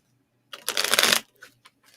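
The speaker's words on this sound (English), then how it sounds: "Okay, shuffling the cards for for PJ" Tarot cards being shuffled by hand, a single dense riffling burst of about half a second, close and clear, followed by a few faint soft card taps.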